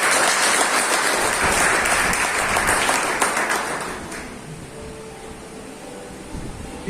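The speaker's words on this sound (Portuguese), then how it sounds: "Aplauda o Senhor em nome de Jesus" A church congregation claps during a Portuguese-language service in a steady, loud wash that gradually fades and thins toward the end.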